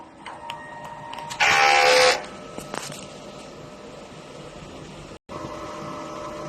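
A DTF printer runs a print-head cleaning cycle, with a low mechanical hum and faint ticks around a loud two-second burst of pumping whir partway through, then a short stop before the hum resumes.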